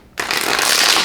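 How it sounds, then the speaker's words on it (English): Tarot cards shuffled close up, a dense continuous riffling rustle that starts abruptly and holds steady and loud for about a second, with no voices. "Sometimes I feel like listening to cards in other readings or shuffling or stuff like that, it can be like really loud"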